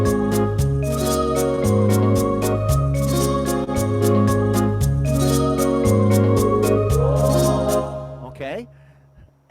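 Venus rhythm style played on a Grand Marquee keyboard arranger, with steady drum hits, bass and chords looping in a bouncy pattern, loud and close, then fading out near the end.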